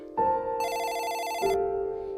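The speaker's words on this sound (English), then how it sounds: "the phone gave a shrill ring" A shrill telephone bell rings loudly and alone, a sustained trilling burst that swells in the middle and then settles into a steadier tone, with no voices present.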